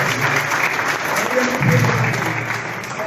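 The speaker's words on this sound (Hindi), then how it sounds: "नुमान शेख के लिए तालियां बजाएं हमारा।" At a Lahore Press Club snooker tournament ceremony, an audience applauds Noman Sheikh with a steady, moderately loud clapping wash, while a low voice murmurs faintly beneath it partway through.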